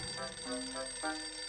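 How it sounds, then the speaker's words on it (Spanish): A red telephone rings in short warbling bursts, a faint electronic bell tone repeating alone without voices. "Oh, ¡el teléfono rojo!"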